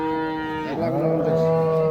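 A Holstein Friesian cow moos loudly and close at a cattle market, one long harmonic low call that bends in pitch partway through over steady background noise.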